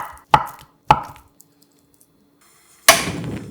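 A knife julienning Spam on a cutting board: two sharp chops, a pause, then a louder third cut followed by scraping, close and clear with no talk.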